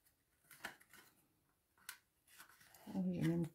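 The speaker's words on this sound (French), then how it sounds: "Je vais couper à peu près." Scissors snipping material for a lantern craft, a few faint, close cuts spaced apart, followed by a person speaking quietly.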